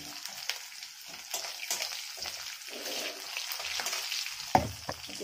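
Garlic fries with a pinch of salt in a pan for a ghatkol leaf mash, giving a close, continuous sizzle with stirring scrapes and a brief louder clatter near the end.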